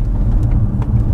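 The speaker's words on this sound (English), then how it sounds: "when you get in here and you hear that engine" A Chrysler 300's engine runs with a steady, close low rumble and no pauses or sharp changes, heard on its own without talk.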